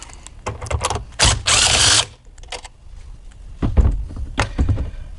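A power tool removing a bolt from a Dodge Dart motor mount whirs in a short, loud burst of about a second, surrounded by metallic clicks and clunks of tools being handled.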